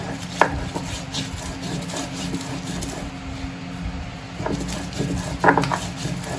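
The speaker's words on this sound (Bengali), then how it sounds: "রসুনের কোয়া আর 2টো কাঁচা লঙ্কা, এটা আবার বেটে নিচ্ছি।" Dry-roasted garlic cloves and two green chilies are ground by hand into a paste in a home kitchen, giving steady rough grinding and rubbing strokes with a few sharper knocks near the start and end, close and without speech.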